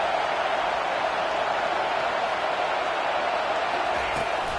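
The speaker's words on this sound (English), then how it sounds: "Listen to this crowd just shaking the girders of this place, trying to help their defense." Roaring football stadium crowd rallying behind the home defense, a dense, steady wall of massed cheering that stays loud and unbroken throughout.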